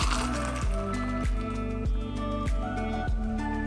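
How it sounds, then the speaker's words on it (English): A Mai Tai with frothed pineapple juice is open-poured into a double rocks glass, a close, steady liquid pour with a run of dull, regular knocks and faint clinks beneath it, and no voices. "We've got our double rocks glass right here, so we're just gonna open pour into that"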